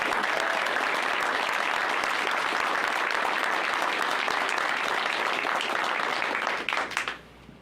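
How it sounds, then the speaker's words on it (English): Loud, continuous applause fills a borough council meeting room after a new resident is congratulated, holding steady for several seconds before tapering off with a last few scattered claps. "Let's give him one more round of applause."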